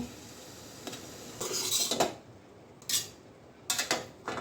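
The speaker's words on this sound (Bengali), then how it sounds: "মোমোগুলো সিদ্ধ হয়ে গেছে এখন তুলে নেব" Steamed chicken momos lifted out of a metal steamer, with sparse metallic clinks and scrapes of utensils against the pot separated by quiet gaps, close and moderately loud.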